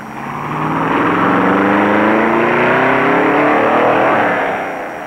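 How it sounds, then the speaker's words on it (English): Race cars at the 1960 Daytona modified-sportsman race, loud engines droning with rising and falling pitch sweeps as cars pass, a steady roar swelling in and fading out. "Fireball Roberts roars into the pits to refuel."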